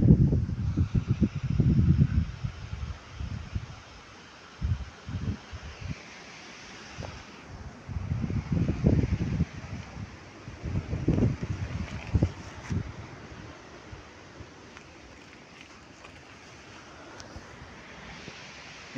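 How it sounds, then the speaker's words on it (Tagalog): Strong wind blowing outdoors in a rainy rural yard where animals are being fed, with irregular loud gusts buffeting and rumbling across the microphone and quieter lulls between them. "Tsaka malakas ang hangin, guys."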